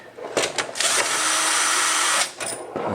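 A power driver whirs loudly and steadily as it backs Phillips head screws out of the license plate on the rear fender of a 2017-or-later SSR Razkull 125 motorcycle, with short bursts before one sustained run.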